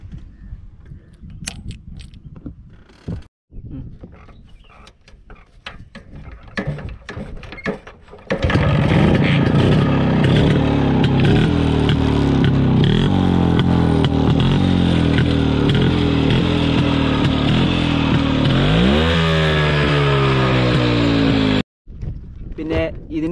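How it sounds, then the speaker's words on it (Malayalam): A Yezdi Roadking 250cc motorcycle is kicked over several times, then catches and roars into a loud, steady idle with rising revs before cutting off abruptly near the end. "ഇത് നന്നായിട്ട് പമ്പ് ചെയ്തടിച്ചിട്ടില്ലെങ്കിൽ സ്റ്റാർട്ട് ചെയ്യാൻ സ്റ്റാർട് ജസ്റ്റ് ഒന്ന് കാണിച്ചു തരാം."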